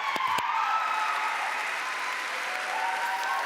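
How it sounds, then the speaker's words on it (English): A ceremony audience applauds in a brief, even burst of clapping, moderately loud and steady for the few seconds heard. "Let's give them a quick round of applause."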